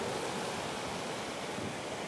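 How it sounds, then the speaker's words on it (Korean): Rough Pacific surf at Santa Rosa, Peru, where fishermen launch totora reed boats, heard as a steady, dense roar of crashing waves with wind rushing across the microphone, continuous and loud, with no voices. "거친 파도를 향해 노를 저어 돌진하는 토토라 배 어부의 모습에서 강인한 삶의 의욕을 느낀다."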